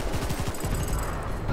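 Rapid bursts of gunfire in Battlefield 5 or Call of Duty, a dense, loud run of shots with no breaks, carrying on under the game's noise.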